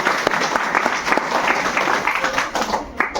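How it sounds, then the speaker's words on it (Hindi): A crowd at a business seminar in Isuapur, Chapra, India claps in sustained, dense applause for a few seconds, loud and steady with some voices faintly mixed in. "एक बार इनके लिए जोरदार ताली।"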